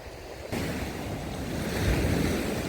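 Sea waves washing onto the shore at Fontanka near Odesa, a broad roaring surge that swells louder toward the end, mixed with wind buffeting the microphone, with no talk.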